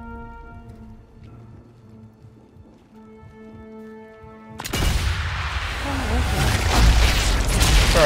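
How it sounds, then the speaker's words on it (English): A sniper rifle shot in Sniper Elite 5 strikes as a sudden loud blast partway through, breaking a quiet stretch of low game music and leaving a dense, sustained rumble and noise afterward. "Oh, a couple of people actually heard that gunshot."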